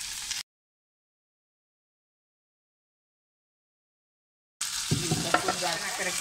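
Chana dal, onion, beans and potato fry in a pan with a sizzle and the scrape of stirring. The sound is cut by a long gap of silence before the frying comes back.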